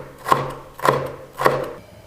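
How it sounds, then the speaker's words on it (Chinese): A green pepper is cut into thin strips with a knife on a board, three separate crisp chops roughly half a second apart, close and clear with no talk. "1个青椒切成细丝。"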